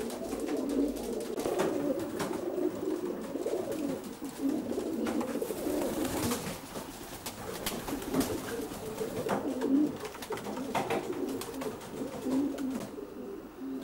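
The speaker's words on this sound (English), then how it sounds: "It's a nice pigeon." Racing pigeons in a premier racing loft coo softly and repeatedly, a steady low burbling chorus with scattered flutters and clicks, moderately near and with no talk over it.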